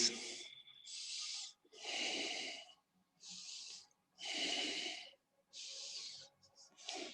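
Deep yogic breathing during an Ashtanga practice, close and hissing, with slow alternating inhales and exhales, about seven long breaths separated by short silences.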